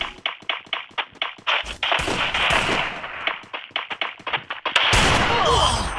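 Rapid pistol fire from a Desert Eagle in a Counter-Strike match, sharp close shots in quick irregular bursts, some overlapping, ending in a denser louder volley.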